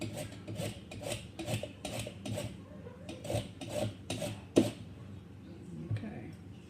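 A lemon is rubbed against a zester in a series of short rasping strokes with a steady rhythm, close and fairly quiet in a home kitchen.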